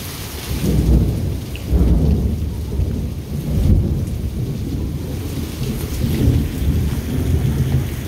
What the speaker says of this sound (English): When the lightning flash comes and then you hear the thunder really like shortly afterwards